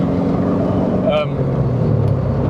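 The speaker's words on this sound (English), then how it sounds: "The torque this engine delivers is insane." A 550hp V8 engine in a 1200kg BMW E46 M3 track car drones steadily while driving, a loud, continuous low rumble with a brief rising whine partway through.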